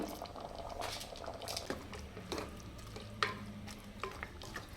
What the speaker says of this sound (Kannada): ಸ್ವಲ್ಪ ಚೆನ್ನಾಗಿ ಒಂದು ಕಡೆ ತನಕ ಕುದಿಸ್ಬೇಕು